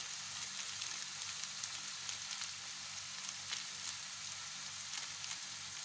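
Bitter melon sizzles steadily as it is stir-fried in a pan, a dense, continuous crackle of hot oil with faint scraping from stirring, close and without talk.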